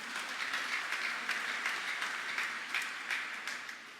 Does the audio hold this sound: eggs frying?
no